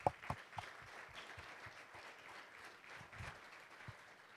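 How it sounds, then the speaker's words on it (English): Guests at a chamber of commerce luncheon give a round of applause to two honorary commanders. It sounds like soft, distant clapping with a few sharper nearby claps at the start. "please give them a round of applause"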